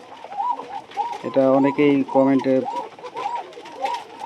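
Red desi pigeons coo repeatedly in a low, rolling rhythm close by, while someone talks over the birds.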